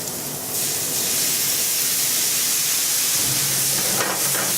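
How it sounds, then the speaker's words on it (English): Brandy flaming off in a hot pan while making coq au vin gives a steady, close, broadband roaring hiss with sizzling that swells slightly after the first half second and runs throughout. "what we have here is the alcohol burning off"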